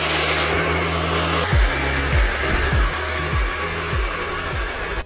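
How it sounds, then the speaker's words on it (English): A hair dryer blows steadily and loudly up close as it dries hair for volume at the roots, its pitch dipping and rising repeatedly as the airflow is moved or partly blocked. "So that's how I blow dry it."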